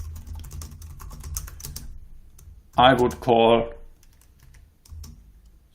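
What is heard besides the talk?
typing on a computer keyboard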